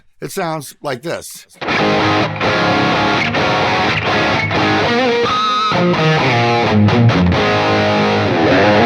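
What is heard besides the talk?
electric guitar crunch and lead preset on Quad Cortex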